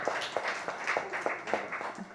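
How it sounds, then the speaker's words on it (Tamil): An audience at a literary awards event claps in quick, regular rhythm, the individual claps sharp and fairly faint in a hall, continuing steadily without talk. "எல்லாரும் ஒரு பெரிய கைத்தட்டலை கொடுக்கணும்"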